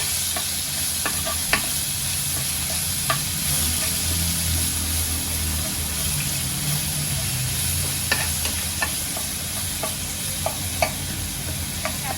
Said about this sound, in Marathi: या सर्वांना मी तेलामध्ये चांगलं परतून घेते